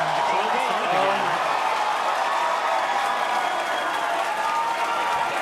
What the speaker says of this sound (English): Cheering, the crowd started again.